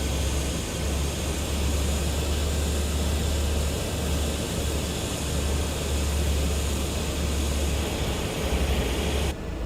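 A Cessna F406 twin turboprop, heard from outside, runs loud and steady with a deep droning rumble and broad roaring hiss that holds throughout before cutting off abruptly at the end.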